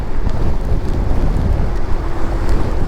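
Heavy rain pours steadily in Los Angeles, a dense, continuous wash of noise with a rough, gusty low rumble, close and loud with no voices.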